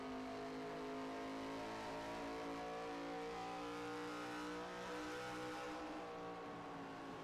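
Race cars in an ARCA-series sim race at The Rock, two cars battling closely for third place, with loud, sustained engine drones and layered harmonic revving that rises and falls throughout, no talking.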